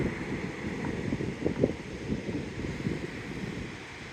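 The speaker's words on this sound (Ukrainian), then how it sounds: "Вітер, бурхливий океан" Gusting wind buffets the microphone over a steady low rumble of rough Atlantic surf off Tenerife, continuous and loud throughout with no voices.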